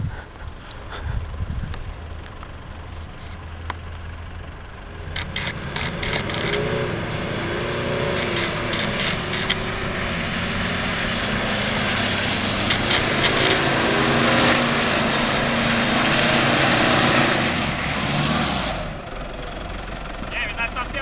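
A Mitsubishi L200 or Toyota Hilux pickup pulls away from a grassy clearing after its wheels have clogged, the engine building from idle into a strained, steady drive under mixed noise and voices.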